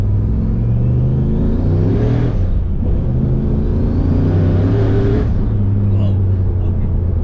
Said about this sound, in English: It still sounds very V8, where usually they're muffled by the turbo